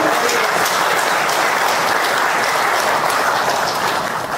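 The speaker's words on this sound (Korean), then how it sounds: "큰 박수로 맞이해 주시기 바랍니다." A large crowd at a memorial ceremony welcomes a guest with loud, continuous applause, a thick, even roar of many hands clapping at once that holds steady throughout without speech.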